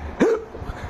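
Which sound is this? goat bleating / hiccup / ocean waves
hiccup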